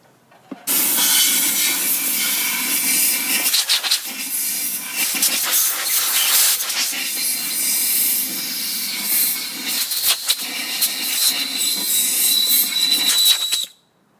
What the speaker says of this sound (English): Let me blast this with some compressed air,